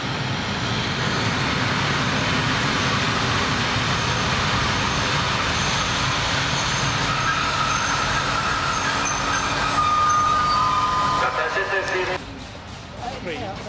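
An ALE 501 three-car electric multiple unit train arrives at a station on the Sicilian railway with a loud, steady rolling rumble and a faint high whine that fades near the end.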